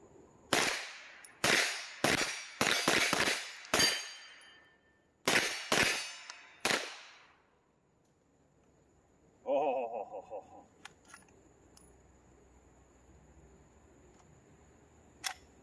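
A Glock 17 pistol fires 147 grain 9mm rounds in a string of about nine sharp, loud reports over the first seven seconds, each ringing out briefly. Quieter metallic clatter and handling follow.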